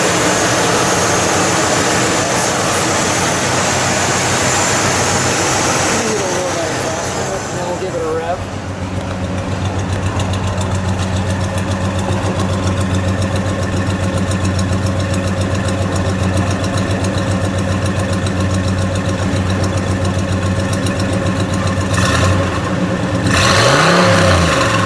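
A 1970 Buick GS Gran Sport convertible with its stock 455 V8 runs close by, a deep, steady idle with a rev partway through and another near the end, while people talk over it.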